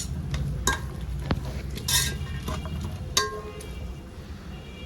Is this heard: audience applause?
no